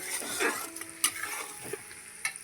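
Raw onions and green chillies frying in oil in a home kitchen, a quiet close sizzle with a few light utensil clinks and stirring scrapes.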